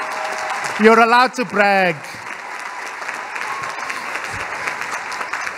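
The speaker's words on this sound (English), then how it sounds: "You're allowed to clap." Large hall of first-year university students breaking into broad, sustained applause at a welcome day, continuing steadily for several seconds after a brief spoken remark from the stage.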